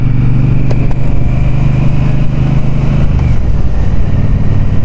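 Triumph Speedmaster 1200 motorcycle engine burbling steadily and loudly while riding, a low continuous rumble with wind noise throughout.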